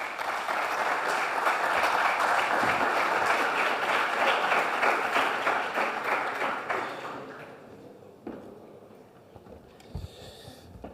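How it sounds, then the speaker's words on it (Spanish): An audience at a participatory forest management conference applauds a fire-prevention official being introduced, a dense, loud round of clapping that holds for about seven seconds and then thins and fades, leaving a few scattered sounds. "Un aplauso para él"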